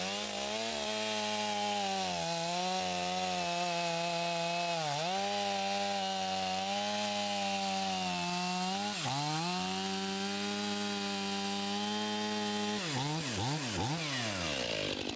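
A Stihl 661 chainsaw on a mobile sawmill cuts a log into planks with a loud, steady high-pitched whine that bogs down briefly a few times under load and roars back up near the end, heard close without speech.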